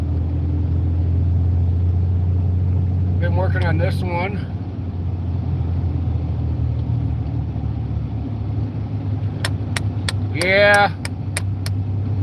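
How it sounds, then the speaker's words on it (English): Small pickup truck driving on a snowy road during a snow storm, a steady low engine and road rumble throughout, with someone talking briefly over it. "I'm driving down the road and checking the road conditions"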